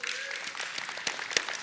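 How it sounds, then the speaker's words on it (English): Audience applause at a technology presentation, a dense, steady patter of clapping from a crowd that carries through the whole moment with a few sharper claps near the end. "I was going to signal the applause later, but I love the enthusiasm."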